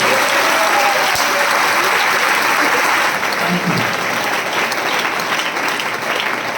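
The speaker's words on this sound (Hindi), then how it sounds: "तो एक बार जिन्होंने हाथ उठाया है उनके लिए जोरदार तरीके से ताली" Enthusiastic audience applause at a motivational meeting, loud, dense clapping from a large crowd that continues steadily throughout.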